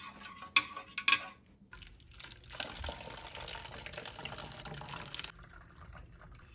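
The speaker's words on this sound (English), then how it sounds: "Just gonna give it a little stir and then we're gonna transfer it over to the bottle." Film developer concentrate stirred into water in a container: a couple of sharp clinks and splashes at the start, then a steady swirling, sloshing wash of liquid that stops abruptly near the end, with no talking.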